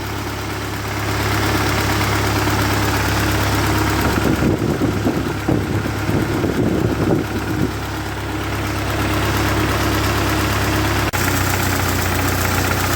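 A 1948 Ford 8N tractor engine, warmed up after cooling system and exhaust manifold repairs, idles with a steady low rumble, its pulse turning slightly rougher and lumpier midway before settling back into an even idle.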